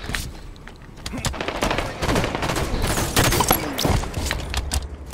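Rapid bursts of automatic gunfire and scattered shots from the video game Halo 5, dense and continuous at close range, with the fire overlapping across the whole stretch.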